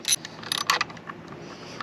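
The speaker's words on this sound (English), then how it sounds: "take your wrench with your 8mm socket" A ratchet wrench with an 8mm socket tightens the sprocket cover bolts on a ZX6R motorcycle, giving a few quick, close, bright metallic clicks in short bursts and no talking.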